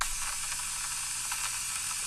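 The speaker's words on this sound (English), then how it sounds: "I added some lo-fi saturation. That was also done courtesy of MSX Audio Lo-Fi Dirt app." Lo-fi saturation crackle from the MSX Audio Lo-Fi Dirt app, used in a Beatmaker 3 session on an iPad, gives a dense, even, frying-like hiss and crackle that runs steadily with no voice.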